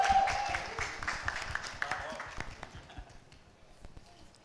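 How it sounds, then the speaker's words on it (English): Audience applause at a launch event for a Hindi web series, scattered clapping that fades steadily over a few seconds, fairly faint and distant. "can we have a huge round of applause for the entire cast and crew of Mirzapur?"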